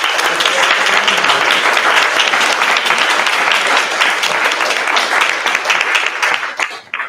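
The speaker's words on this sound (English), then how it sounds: "We give a round of applause for our" An audience applauds at a nursing white coat ceremony, steady dense clapping filling the room for about seven seconds before thinning out at the end.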